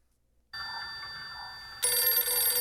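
A telephone starts ringing after a brief silence, a bright electronic trill that jumps sharply louder partway through and keeps sounding steadily with nobody speaking.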